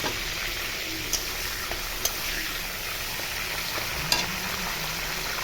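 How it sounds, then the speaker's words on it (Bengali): Dry red chillies and bay leaves tempering in hot oil left after frying meat pieces, a steady close hissing sizzle with a few faint clicks of utensils against the pan. "এখন ওই তেলে শুকনো লঙ্কা ফোড়ন দিচ্ছি, তেজপাতা,"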